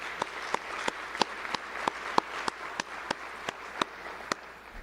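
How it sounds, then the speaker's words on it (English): Crowd applause for the Booster Club at a Kearns High football ceremony, sharper individual claps standing out at an irregular beat over a steady wash of clapping, moderately loud throughout. "So let's give the Booster Club a round of applause."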